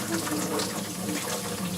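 Old, stale gasoline pours steadily out of a car part during brake work on a 1968 Chrysler 300, making a continuous close splashing gush.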